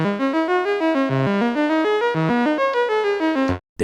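A Yamaha CS01 synthesizer plays a string of bright, buzzy notes in a steady stepping melody, loud and alone, ending with a brief cutoff.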